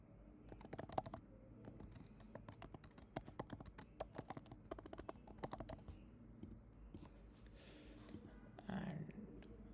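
Someone types on a computer keyboard while building a WhatsApp flow, with irregular bursts of soft, close key clicks and taps, a few pauses, and faint background noise.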